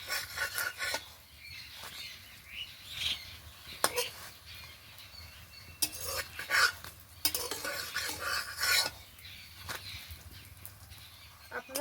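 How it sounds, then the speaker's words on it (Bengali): A paratha fries in a pan with faint sizzling, while a utensil scrapes, rubs and clinks against the pan in irregular strokes. The sounds are quiet and close. "দেখুন খুব সুন্দরভাবে ভেজে নিয়েছি, এবারে তুলে নেব।"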